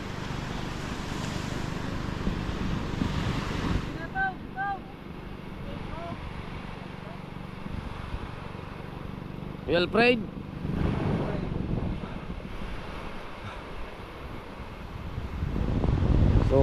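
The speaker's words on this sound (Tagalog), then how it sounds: "So malakas ang hangin." Strong night wind rushes outdoors in a steady, moderately loud roar that swells near the end, with brief voices and a short squeaky sound partway through.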